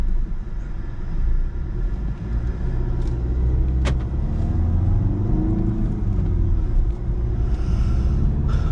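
A 2013 VW Golf 7 1.6 TDI diesel with a manual gearbox pulls away, its engine rumble steady and close, rising gently as it gains speed, with road and cabin noise beneath and no talking.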